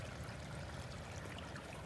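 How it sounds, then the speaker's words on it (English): Soft, steady trickling of water from a small fountain, a continuous gentle splashing with no voices. "the little pollinator fountain"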